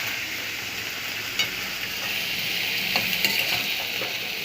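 Mixed vegetables frying in a pan with a steady sizzle, occasional stirring scrapes and clinks over the hiss, close and moderately loud.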